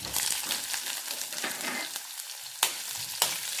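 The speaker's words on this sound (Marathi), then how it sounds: "मी ते सर्व मसाले इथे टाकून घेणार आहे अगदी आपल्याला एक मिनटासाठी हे मसाले इथे फ्राय करून घ्यायचे" Whole spices and chopped onion fry in hot oil with a steady, close sizzle, and two sharp clinks of a utensil sound near the end.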